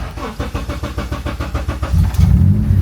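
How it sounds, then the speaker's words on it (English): Honda Civic EG race car engine starting: rapid rhythmic cranking of the starter for about two seconds, then the engine catches and settles into a loud, rough idle close by. "We're gonna start the car."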